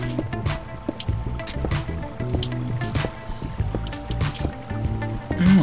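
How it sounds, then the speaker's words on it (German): In a Minecraft mine, water flows and splashes with steady dripping and sloshing close by, interrupted by clicky game sounds, moderately loud with no one speaking. "Ja, es plätschert, also kommen wir zum Wasser."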